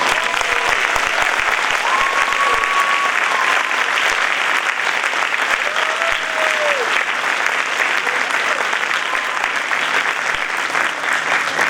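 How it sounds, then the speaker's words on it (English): A school audience at a winter band and chorus concert applauds for the students, a dense, loud and sustained clapping with faint voices and cheers mixed in. "can you please join me in a thunderous round of applause for our students?"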